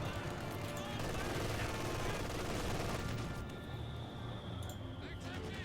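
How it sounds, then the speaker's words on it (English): An MG42 machine gun fires during a Company of Heroes 2 battle, with rapid bursts of gunfire mixed with other combat noise, loud and dense through the first three seconds, then thinning out while a voice talks over it. "MG42 will be firing."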